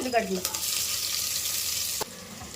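Green chillies and curry leaves hit hot oil in a pan, giving a loud, steady close-up crackling sizzle with a few spoon scrapes.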